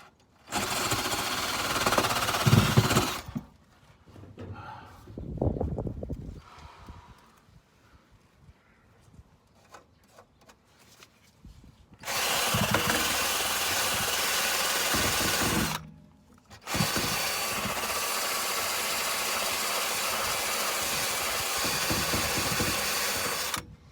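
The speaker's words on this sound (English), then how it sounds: "if you turn the drill the wrong way, the direction, it works a bit better." Electric drill scrubbing surface rust from the underside of a Fiat Uno Turbo Mk1 in the middle of a Mk2 conversion, loud grinding bursts that stop and restart, with quieter gaps of handling noise between runs.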